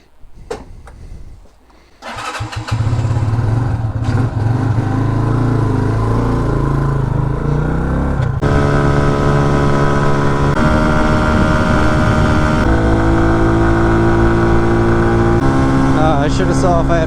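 An RPS Condor 150cc scooter engine starts with a few rough sputters, then settles into a loud, steady drone as it rides off on the road, the pitch climbing and holding under strong wind noise.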